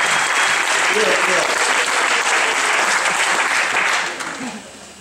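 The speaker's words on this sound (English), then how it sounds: "big round of applause for that" Wedding guests give a loud, full round of applause, dense and continuous before thinning out in the final second, with faint voices beneath.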